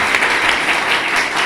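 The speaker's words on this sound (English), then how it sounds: "Praise Jesus with your clap." At a baptism service, a congregation claps in praise of Jesus, a loud, dense and even burst of many hands clapping together with no voices.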